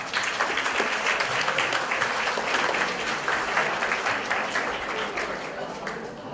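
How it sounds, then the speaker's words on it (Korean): Sustained audience applause at a high-school unification debate final, a dense, steady wash of many hands clapping at once that fills the room without pause. "모두 격려의 박수를 부탁드립니다"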